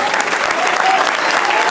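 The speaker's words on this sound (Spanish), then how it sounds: "Dale un aplauso a Dios por eso." Church congregation clapping together in sustained applause at a Pentecostal revival service, a dense steady wash of many hands close by with no break.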